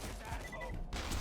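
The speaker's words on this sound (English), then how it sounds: "It's actually fairly accurate rocket launcher." Pyrophobia rocket launcher from Borderlands 2 fires in a short, dense, booming burst amid loud battle noise, lasting about a second.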